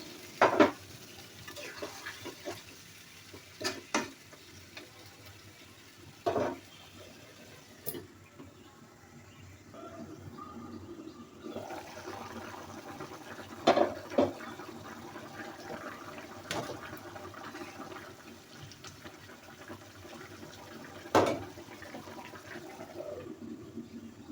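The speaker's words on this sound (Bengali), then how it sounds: "মাছ কষানো হয়ে গেছে, আমি এখন পরিমাণ মতো একটু ঝোল দিয়ে দিব।" Liquid poured into a pan of small fish curry in Bengali style after the fish has been sautéed, with pouring and stirring sounds, occasional utensil clinks and a steady low simmer running throughout.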